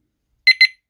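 An Oxford Quartz XA10 motorcycle disc lock alarm gives two short, sharp electronic chirps in quick succession, loud and close against silence.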